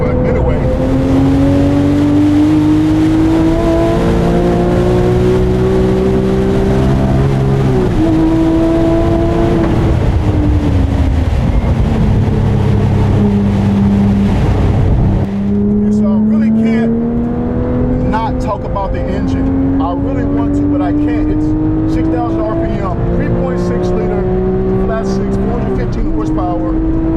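A Porsche 911 GT3 of the 997 generation on track, its flat-six engine howling loud and close as it climbs through the revs, with gear changes breaking the pitch before it pulls hard again, continuous and unbroken.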